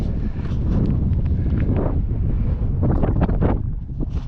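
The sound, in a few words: wind blowing on a mountain ridge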